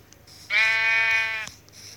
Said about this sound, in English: I need to kill the sheep for wool.